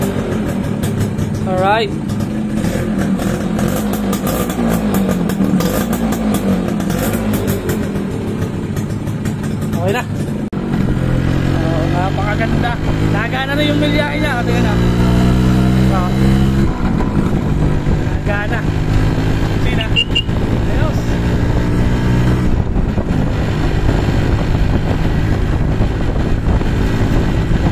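A Suzuki X4 motorcycle engine under restoration runs steadily and revs up and down several times, loud and close, with someone talking over it briefly.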